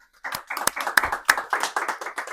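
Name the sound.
applause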